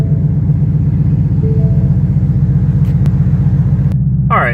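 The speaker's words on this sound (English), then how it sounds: "Now when you fire the car up," A car engine runs at a steady idle just after start-up, with a loud, close, throbbing rumble throughout, plus a brief clicking and a short tonal sweep near the end.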